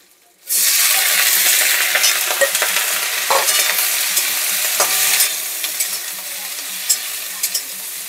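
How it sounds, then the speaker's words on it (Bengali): Chopped ridge gourd and eggplant hit lightly fried onion in a hot pan, setting off a sudden loud sizzle that keeps hissing steadily, with small clinks and scrapes of stirring. "এবার দিয়ে দিচ্ছি কেটে রাখা সবজিগুলো। এখানে ঝিঙে আর বেগুন আছে।"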